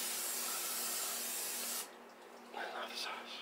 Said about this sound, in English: we're gonna spray the bowl inside here with canola oil